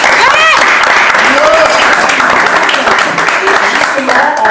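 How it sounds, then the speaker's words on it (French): Audience applause at a Christian marriage-themed gathering in Paris, with dense clapping filling the space throughout and voices and cheers mixed in. "Est-ce qu'on peut les applaudir s'il vous plaît?"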